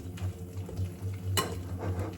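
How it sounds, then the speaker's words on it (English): Child whisking cottage cheese waffle batter in a bowl, a quick rhythmic series of soft scraping, sloshing strokes with one sharper clink against the side partway through, close and alone. "He's a pro in whisking."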